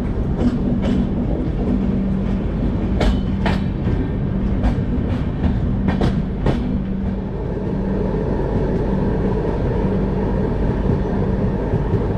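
A long-distance passenger train runs steadily on the rails near Udaipur, with a continuous rumbling roar, repeated clickety-clack wheel beats and sharp metallic clanks over the joints, loud and close, with no talking.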